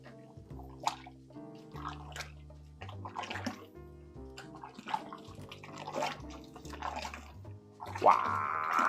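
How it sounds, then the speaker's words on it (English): Homemade salsa stirred with a spoon, a close, wet, sloshing churn with irregular liquid splashes and soft clinks, continuing for several seconds and growing a bit louder toward the end. "We'll give it a nice good stir."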